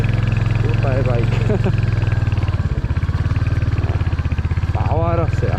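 A Royal Enfield Hunter 350 motorcycle climbs an off-road hill track on slow throttle, its engine thumping in a steady low rhythmic beat under someone speaking over it.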